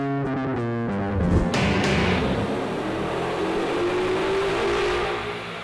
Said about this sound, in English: our baseline run with our automatic 2011 GT gave us 337 horsepower